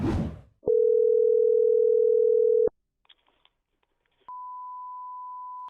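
A telephone line gives a steady tone for about two seconds, then quiet keypad clicks are followed by a continuous higher ringback-style tone, clear and close, while a coin shop is being called.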